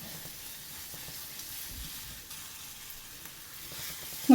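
Spice masala sautés in a pan for a quail egg pickle, a soft, steady sizzle and hiss running throughout with faint stirring and a small clink at the end.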